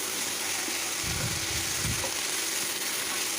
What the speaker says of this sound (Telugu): మెంతి కూర మంచిగా ఫ్రై అయ్యేలాగా అటు ఇటు కలుపుతూ ఉండాలి